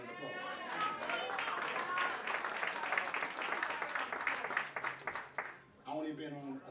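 Warm audience applause at a free concert stop on a community summit tour, mixed with crowd voices and cheering, fading out near the end before a speaking voice returns.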